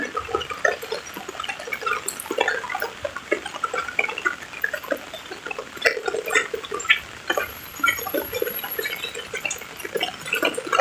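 Steady patter of rain with scattered drips and splashes, fairly close, continuous throughout with no voices.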